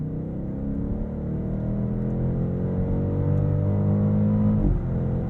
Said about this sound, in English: the sound from that V8 when we went into Sport Plus